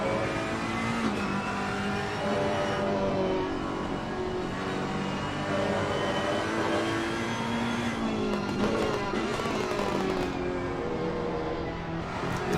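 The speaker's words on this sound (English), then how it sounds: "As you enjoy the dulcet tones of the Ferrari engine on the onboard with Daniel Madringa." A Ferrari GT race car in a sim racing game at Kyalami, heard onboard, drones and revs continuously and loudly, its engine tone rising and falling through gear changes with no break.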